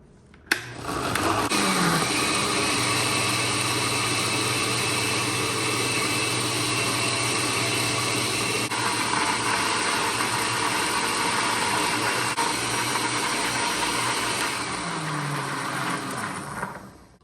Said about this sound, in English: I'm gonna blend